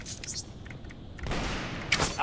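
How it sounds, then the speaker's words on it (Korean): Gunfire during a ranked Apex Legends match, a brief burst of close automatic shots following a stretch of quieter game sounds, with a voice speaking over part of it. "사격 중"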